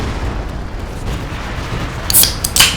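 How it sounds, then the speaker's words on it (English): Artillery shells land in a Company of Heroes 2 battle, two short, sharp blasts near the end over a steady low battlefield rumble. "More artillery going down on the map."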